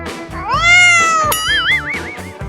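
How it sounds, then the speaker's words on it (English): A farm cat meows several times outdoors, with long pitch-sliding cries close up and clear, one rising into a wavering caterwaul. "Finally, the cat."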